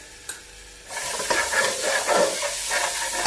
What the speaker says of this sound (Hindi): अदरक लहसुन का पेस्ट फ्राई हो चुका है